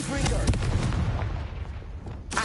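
A Confringo fire spell blast in Hogwarts Legacy, a loud booming explosion with a crackling, rumbling decay that fades over about two seconds, followed by a fresh burst of noise at the end.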